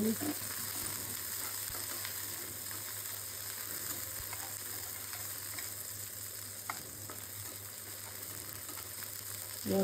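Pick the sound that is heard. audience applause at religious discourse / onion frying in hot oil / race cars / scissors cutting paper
onion frying in hot oil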